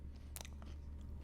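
Dry sourdough toast crunched in the mouth while eating, a short burst of crisp bites followed by softer chewing, close and fairly quiet.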